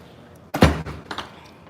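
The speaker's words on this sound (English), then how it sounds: "I have to open the door that wide." A door in a home swings open wide with a sudden thud and a rattle, followed by a smaller knock, close by and with no talk over it.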